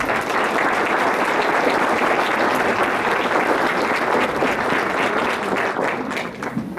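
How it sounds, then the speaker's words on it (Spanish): Warm audience applause welcoming the speakers and moderator at an academic talk, a dense, even roar of many hands clapping at close range, loud and sustained before tapering slightly at the end. "Los recibimos con un caluroso aplauso"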